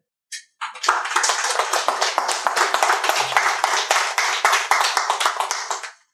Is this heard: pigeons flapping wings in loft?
no